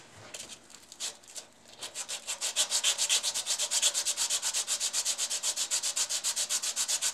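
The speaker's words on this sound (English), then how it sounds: "all I'm doing, lads, is sanding the fur off the bottom of this" Steady, rhythmic back-and-forth sanding of wood, close and loud, starting with a few hesitant strokes and then settling into a fast regular stroke pattern.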